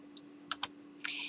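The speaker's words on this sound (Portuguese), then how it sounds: "se você digitar, por exemplo, no teclado o trim, se você colocar o TR" Keys on a computer keyboard are tapped a few times with uneven spacing while a command is entered in AutoCAD, close and quiet over a faint steady hum, ending in a brighter clatter.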